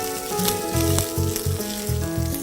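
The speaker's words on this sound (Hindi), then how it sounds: "इसको आप हल्का सा भून लें अदरक और लहसुन को" Finely chopped ginger and garlic frying lightly in a pan, giving a steady sizzle with soft, regular pulses of cooking noise throughout and no talking.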